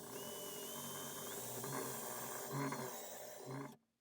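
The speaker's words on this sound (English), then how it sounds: "go ahead and drill up into my vertical pieces." A power drill drives up into vertical wooden pieces while building a leather stitching pony, a steady whirring motor whine with slight pitch shifts as it bites, stopping abruptly at the end.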